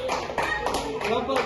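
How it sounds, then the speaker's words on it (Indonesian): A classroom of third-grade children claps for group 1, a short burst of rapid, dense hand claps with a loud, even level and voices mixed in. "tepuk tangan untuk kelompok 1."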